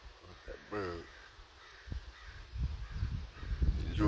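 A crow caws a few times outdoors on a day of strong wind gusts, short hoarse calls fairly close, with wind buffeting and thumping rising toward the end and a voice briefly heard.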